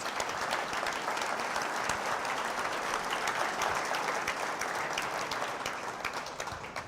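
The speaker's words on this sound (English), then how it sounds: "can we get another round of applause for those startups?" An audience at a startup pitch showcase applauds, a broad and sustained wash of many hands clapping at even loudness that tapers slightly toward the end.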